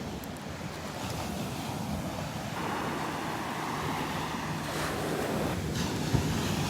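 Ocean waves rolling onto the beach at Marco Island, Florida, a continuous broad wash of surf mixed with wind buffeting the microphone, steady and moderately loud with no speech.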